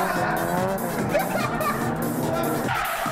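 Several cars drifting together in a drift show at an event emit loud, sustained tire squeals over continuous engine roar, skidding close by with a few brief bangs.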